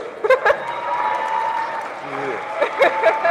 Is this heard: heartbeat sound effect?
no